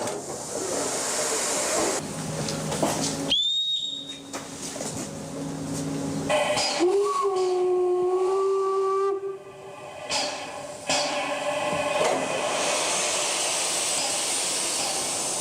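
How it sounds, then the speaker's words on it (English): A steam locomotive in Poland vents loud hissing steam, then sounds a sustained multi-tone whistle before departure, with the hiss returning afterward, close and powerful. "Time to connect the passenger cars to the steam locomotive that has finished its preparation."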